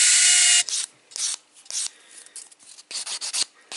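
Short rasping strokes of a file on an acrylic nail overlay laid over a thin gel underlay, close and dry, coming in irregular bursts with brief pauses between, after an opening stretch of steadier hiss.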